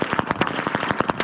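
Whips cracked during a traditional Bavarian winter custom, with white tassels at the lash ends, give a rapid, continuous volley of sharp overlapping snaps from several whips at once.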